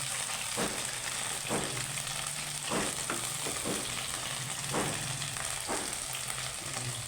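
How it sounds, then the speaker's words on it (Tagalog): Vegetables for pinakbet sautéing in oyster sauce, a steady loud sizzle with periodic scraping stir strokes roughly every second, close and continuous with no talking. "Gigisa lang natin sa oyster sauce"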